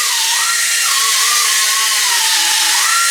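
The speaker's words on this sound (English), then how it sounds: "So I use a cut-off wheel, get the biggest part" Cut-off wheel grinding down MIG welds on sheet metal during 1958 car metalwork, a loud continuous high whine with the pitch dipping and rising as the disc bites and eases.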